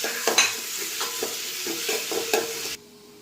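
Chopped ginger, garlic and green chilli fry in hot coconut oil for a biryani, a steady close sizzle broken by several stirring scrapes of a spoon, then it cuts off abruptly near the end.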